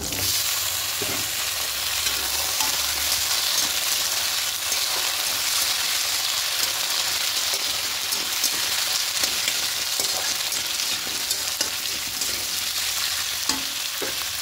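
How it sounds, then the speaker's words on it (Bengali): Taro stems and potatoes fry in oil in a pan with tomatoes, producing a dense, even sizzle that holds steady throughout with faint scraping stirs and no speech. "এবার এখানে ডাঁটি কচু আলুটা দিয়ে দেবো।"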